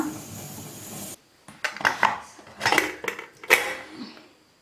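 Metal clanks and scrapes as a pressure cooker lid is set on and twisted shut over goat head curry, several sharp knocks after a brief hiss of background noise.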